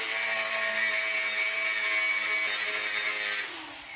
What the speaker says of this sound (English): So we'll take the grinder.